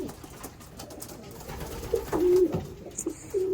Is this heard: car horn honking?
no